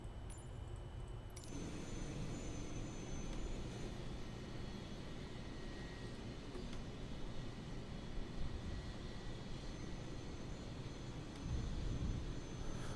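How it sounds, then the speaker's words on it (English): An Airbus A380 engine spools up in a flight simulator game, a steady broadband jet roar that holds loud and unbroken, with a brief tonal whine at the very start and no talking. "Oh, engine 3 is starting for some reason."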